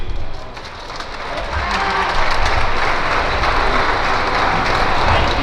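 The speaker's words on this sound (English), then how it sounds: "Can we have a round of applause for those guys" Applause from the crowd at a high school girls' basketball game in a gym, a dense, steady wash of clapping that swells after the first second and holds loud and continuous to the end, with no talk over it.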